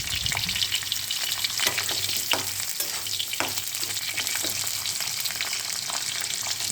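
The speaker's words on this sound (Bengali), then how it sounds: "গাজরগুলো দিয়ে দিলাম।" Carrots and cauliflower frying together in a hot pan give off a steady, close sizzle, with stirring scrapes and clicks breaking through the crackle.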